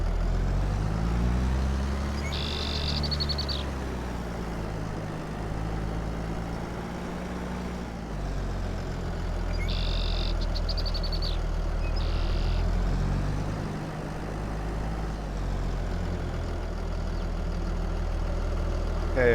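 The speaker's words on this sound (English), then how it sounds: "The tractor is heavy enough to lift it." A tractor engine in a farming video game runs steadily nearby with a low, continuous diesel-like drone, holding a constant idle-level rumble throughout with a few brief higher mechanical whines layered on top.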